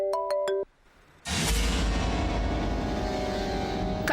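A mobile phone rings with an incoming call, giving a short burst of stacked electronic tones at the start. It then cuts off into a loud, broad, steady wash of background noise.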